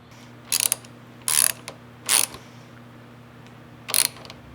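A ratchet wrench clicks in four short bursts, tightening nuts onto studs on an aluminum Wilwood clutch master cylinder mount in a Supra, close and crisp with pauses between, over a faint background hum.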